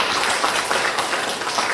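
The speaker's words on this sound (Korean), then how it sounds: "박수." A church congregation claps together in dense, continuous applause that sounds like a wash of hand claps. It is moderately loud and steady throughout, with no speech over it.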